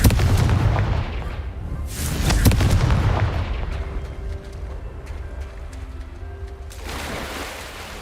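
Spell effects from Confringo and Incendio in the Hogwarts Legacy video game during Merlin trials: repeated loud booming blasts and fiery bursts, one after another, with crackling bursts between.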